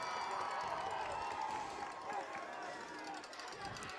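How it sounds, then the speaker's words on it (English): A large crowd in the stands at a high school football game between McDonogh and Archbishop Spalding makes a constant roar of cheering and chatter. The crowd sounds fairly distant, with no single clear peak. "the crowd is still very loud"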